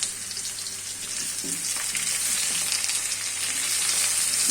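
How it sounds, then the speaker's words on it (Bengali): Sliced onions and potatoes fry in a pan for a tengra fish and potato curry, a steady, dense sizzle that carries on alone without pause. "পেঁয়াজটা আমার মোটামুটি হয়ে গেছে এবং আলুটাও ভাজা হয়ে যাচ্ছে।"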